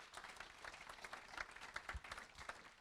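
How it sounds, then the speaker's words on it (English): A crowd applauds steadily, many hands clapping together in a dense, continuous patter that stays at an even level throughout. "we'll have a warm round of applause for Ben Reynolds"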